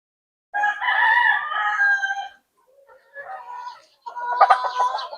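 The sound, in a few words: gamecock rooster crowing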